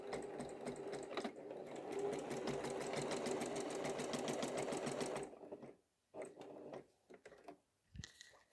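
A sewing machine quilts straight diagonal lines across a block, running in reverse at a slow pace: a soft, even mechanical whir for about five seconds, then a few brief start-stop bursts.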